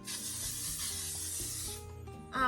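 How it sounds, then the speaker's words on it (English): A L'Oreal Infallible 3-second setting mist sprays onto a face in one long, steady, close hiss lasting nearly two seconds. Quieter handling noises follow it. "I'm going to go in with this L'Oreal Infallible 3-second setting mist on top just to really lock in my makeup"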